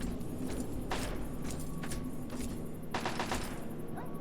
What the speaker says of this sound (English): Okay, I'm hearing gunshots, but I think it's coming from within.